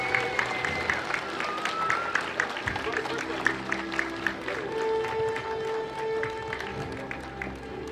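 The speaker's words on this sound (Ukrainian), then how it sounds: "Вітайте оплесками!" An audience at a school award ceremony applauds with dense, steady clapping that carries on across the whole stretch, while a voice speaks over it at times.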